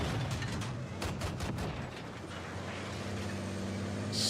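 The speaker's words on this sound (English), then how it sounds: "Look at how you can just spam these nades" Grenades are thrown one after another and explode in Battlefield 6 gameplay, heard as a cluster of sharp repeated blasts and mechanical clatter in the first two seconds, fading into a lower, steadier battlefield rumble with no talking.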